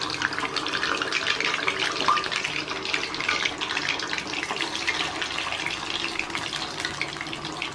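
Drained pempek, Indonesian fish cakes, drop into hot oil and fry with a steady, close, loud bubbling sizzle that holds evenly throughout, with no voices.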